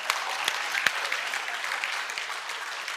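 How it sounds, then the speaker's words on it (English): A church congregation claps together in sustained, dense applause, steady throughout with a few sharper claps standing out near the front. "Get yourself a hand clap."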